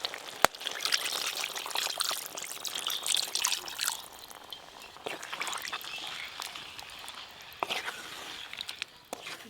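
Water poured into a pot of mutton curry cooking on the stove, a steady splashing pour and trickle heard close and alone for several seconds.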